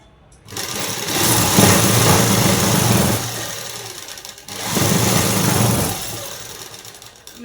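Sewing machine stitching a collar neck blouse, two loud close bursts of rapid whirring stitching, each a few seconds long, separated by a short pause.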